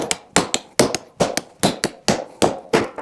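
Hammer blows strike a scrap electric motor to drive its copper windings loose, about eight sharp, ringing metallic impacts at a steady, roughly even rhythm, close and loud, with no talking.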